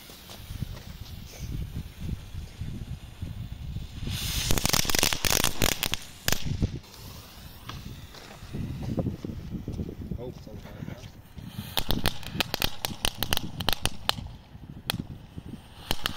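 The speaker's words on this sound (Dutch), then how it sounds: "Wat is dat? Crackling cracker." Small ground-level crackling firecrackers from a category 1 consumer fireworks set go off outdoors in two bursts of rapid, dense crackles, with people talking in between.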